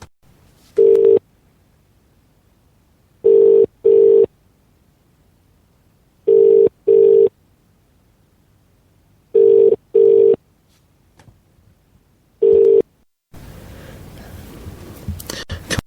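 A phone-in call line rings out in paired electronic tones, four double rings and a single one spaced a few seconds apart over near silence, then the line connects into noisy background sound.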